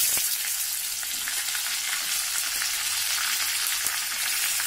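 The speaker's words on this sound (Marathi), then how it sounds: "गॅस बंद करूया आणि ह्या गरम तेलामध्येच कढीलिंबाची पानं घालू." Curry leaves dropped into hot oil with the gas turned off crackle in a dense, steady sizzle, close and loud, with no talking.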